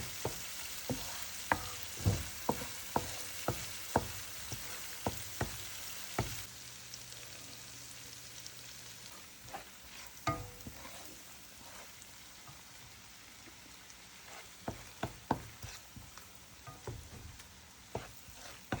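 Crab stir-frying in a wok with ginger, green onion and onion: a steady frying sizzle under sharp, irregular clacks and scrapes of a spoon stirring, with no talk.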